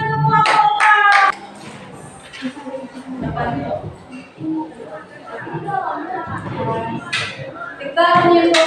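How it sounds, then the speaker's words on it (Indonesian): A classroom of students clap hands together in short loud bursts, with children's chatter and voices filling the gaps between the rounds. "Oke, kasih tepuk tangan semua kompak."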